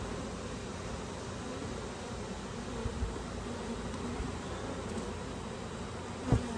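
Honey bees hum in a dense, steady buzz around an open hive during an inspection. The drone is continuous and close, with a faint knock near the end.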